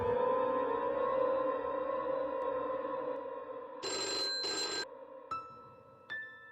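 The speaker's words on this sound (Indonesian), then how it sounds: "Dan tiba-tiba telepon pun berdering kembali." A telephone rings in a dramatic film about a kidnapping, first two long bursts of a bright electronic ring, then two short isolated chirps, heard alone over a steady background hum.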